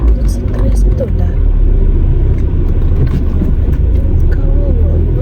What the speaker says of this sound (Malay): Kau ni banyak gila kereta.